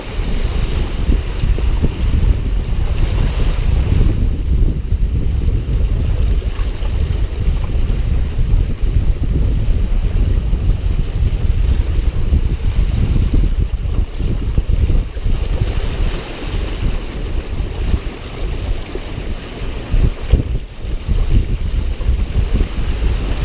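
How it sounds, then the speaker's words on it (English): Big waves on Lake Michigan near the Mackinac Bridge slap and rush against a sailing boat in a continuous loud wash, mixed with heavy wind buffeting the microphone. "Got some really big waves and riding high on them right now"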